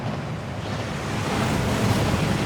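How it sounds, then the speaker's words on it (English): Rushing waterfall in the Hogwarts Legacy video game, a steady, dense roar of falling water that swells slightly louder partway through, with no voices. "That waterfall washes away all enchantments."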